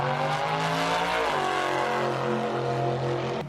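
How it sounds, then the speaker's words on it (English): A drag car roars down the Santa Pod quarter-mile drag strip, a loud sustained engine howl with a sharp shift in pitch partway through, steady and close with no talking. "Santa Pod is famous for its quarter-mile drag strip, which is where you'll see these crazy drag cars"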